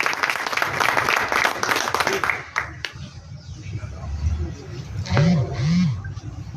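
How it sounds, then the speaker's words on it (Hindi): Loud applause for Rameshwar ji at a district-level ex-servicemen's honour ceremony in Gangapur City, strong clapping for the first few seconds that thins out, then a voice speaks over a quieter room. "जोरदार तालियां रामेश्वर जी के लिए"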